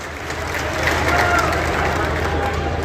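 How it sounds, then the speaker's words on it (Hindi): A crowd at an outdoor government award ceremony applauds a medal-winning athlete, a steady wash of clapping and murmuring voices with some background noise and a faint tonal whine. "जोरदार तालियां जितेंद्र कुमार जी के लिए"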